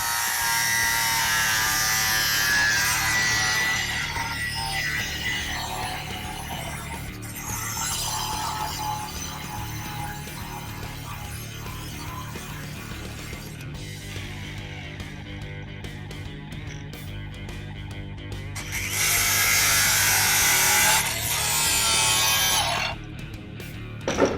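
A power saw cutting a custom window opening in the steel body of a 1968 VW, a continuous rasping whine that shifts in pitch, eases off partway through, then surges loud again before stopping.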